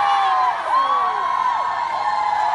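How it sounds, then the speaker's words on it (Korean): Crowd at the Hampyeong butterfly festival cheering outdoors, with sustained high-pitched screams and shouts blending into one steady roar for a couple of seconds. "함성."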